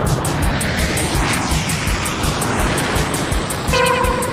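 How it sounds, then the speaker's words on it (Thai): An airplane flies in a toy-themed game scene, a loud continuous engine roar with dense rushing noise that holds steady throughout, and a brief tonal beep near the end. "นี่เจ้าสเลตคนแกมันขี่เครื่องบินมาทำอะไรกัน"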